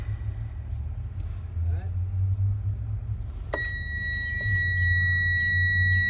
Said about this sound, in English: we should hear my multimeter ring out if that is the correct wire